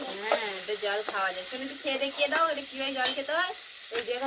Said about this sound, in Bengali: এর মধ্যে সামান্য একটু জল দেবো